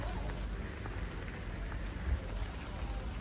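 Steady rain falls and patters on surfaces outdoors at the Taipei Zoo, a soft even wash of drops throughout the short stretch, with no talking over it.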